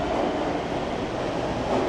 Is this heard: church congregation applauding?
no